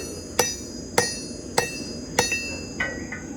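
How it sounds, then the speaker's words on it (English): Hammer blows ring out while forging a steel war hammer and axe head, four sharp metallic strikes at an even pace followed by a lighter tap, close and clear over faint background hiss. "just a little bit of hammer work and you already stretched her out"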